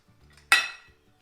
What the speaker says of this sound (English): And then we're just going to fold in our blueberries.